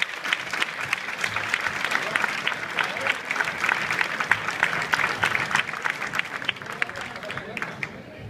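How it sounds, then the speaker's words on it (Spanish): A crowd at a music venue's 15th anniversary event applauds a music duo with dense, sustained clapping, joined by scattered shouts and voices before the clapping thins out at the close. "¡Fuerte aplauso para ellos!"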